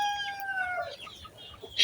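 A village chicken calls out once in a drawn-out crowing cry that falls away, fairly close in a quiet rural yard on a rainy day, ending with a brief sharper squawk.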